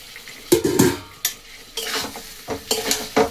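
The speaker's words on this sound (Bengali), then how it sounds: "এগুলোকে খুব ভালো করে মিশিয়ে নেব।" Egg, fish and potato being stirred together in a bowl, with a run of wet, squelching scrapes and clinks of a utensil in irregular bursts, close and fairly quiet.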